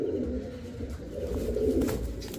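A male Super Mili racer pigeon and other racer pigeons coo in low, throaty, continuous murmurs at close range, with a few faint clicks over the top and no speech.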